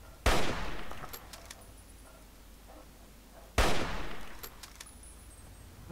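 Gunfire in the video game Fallout 3 in a metro tunnel: two sharp, loud shots a few seconds apart, each trailing off in a ringing echo, with no talking.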